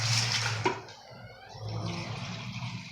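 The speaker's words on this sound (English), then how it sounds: "This one's going to ask for 5 cups of water." Water splashes into a pot of chili from a two-cup measuring cup, one close gushing pour that tapers off, followed by a second, softer stream.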